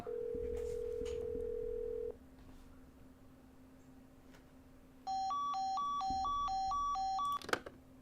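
A telephone handset is used to dial a long-distance number. A steady dial tone hums for about two seconds and then stops. After a quiet pause, a rapid run of keypad touch-tones follows, evenly spaced, ending in a faint click.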